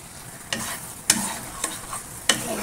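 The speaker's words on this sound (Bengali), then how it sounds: "একদম মাছটা মশলা কষাচ্ছি, মাছ ভাজা হয়ে গেছে।" Fried fish being stirred in a kadai with a paste of onion, garlic and tomato, the spatula scraping in several sharp strokes over a low, steady sizzle, close and without talking.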